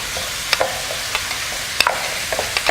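Hamburger meat frying with onion and green pepper gives a soft steady sizzle. A utensil stirs and scrapes the pan in a few sharp, irregular strokes.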